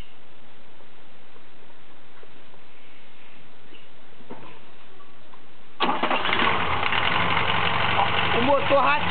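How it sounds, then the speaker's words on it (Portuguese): A Volkswagen Saveiro engine cranks and catches partway through, then settles into a loud, close idle with an uneven, rough running note, preceded by a few seconds of quiet background. "liga o carro lá"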